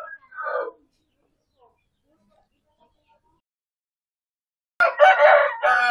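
A five-month-old Bangkok rooster crows up close while being handled: a short call at the start, a long silence, then a louder, longer crow near the end.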